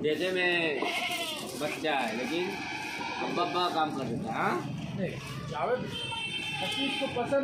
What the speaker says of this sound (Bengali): এই পাশেও দেখো প্রচুর দেশি ছাগল রয়েছে